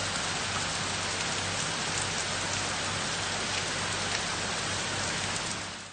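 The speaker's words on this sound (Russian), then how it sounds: "Владивосток сегодня накрыл сильный ливень." A heavy rain downpour drives down in Vladivostok during a cyclone, a loud, dense and unbroken hiss of rain on surfaces with no pauses.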